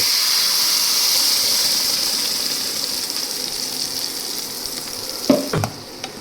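Tomato chili chutney sizzles in hot oil with mustard seeds and asafoetida, a steady hissing fry that gradually softens, then a couple of sharp stirring clinks and scrapes near the end, with no one speaking.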